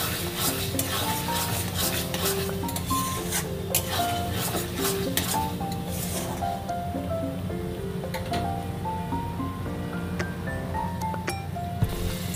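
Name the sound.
stirring chickpea curry in a pan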